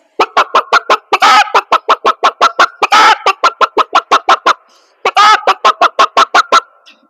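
A voice imitates a hen clucking in quick, rhythmic bursts, with a few louder drawn-out squawks breaking the steady cluck pattern.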